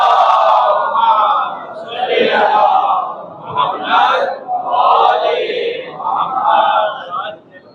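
Congregation at a Muharram majlis reciting durood (salawat) aloud in unison, a loud massed chant rising and falling in several swelling waves.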